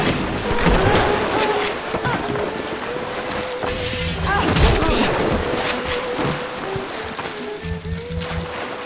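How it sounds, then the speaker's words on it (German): Game ambience from Bioshock in the undersea city of Rapture, with a collapsing tunnel heard as a dense, sustained rumble full of scattered crashes, mechanical clatter and low booms that swell twice before settling. "Hört sich an, als ob da wieder ein Tunnel einstürzt."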